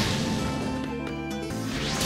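Nagato's Almighty Push attack impact in the Naruto Storm Connections video game: a loud, sustained crashing blast with sharp whacks and a swooshing rush, no voices over it.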